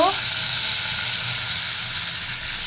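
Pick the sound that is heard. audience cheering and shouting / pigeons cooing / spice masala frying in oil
spice masala frying in oil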